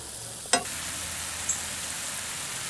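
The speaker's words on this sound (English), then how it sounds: "Look at all that sizzle action." Potatoes frying in a pan at a campsite give off a faint, steady sizzle, broken by a sharp clink near the start and a small tap a second later.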